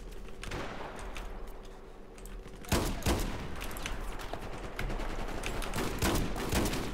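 Shotgun blasts in the video game Battlefield 4 crack through a dense, noisy firefight, with heavy reports at irregular intervals over constant background gunfire and clatter.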